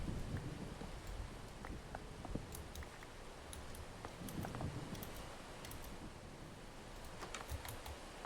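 Steady rain with rumbling thunder in the Minecraft video game with a weather mod, a continuous wash of sound with scattered sharp ticks and clicks layered over it.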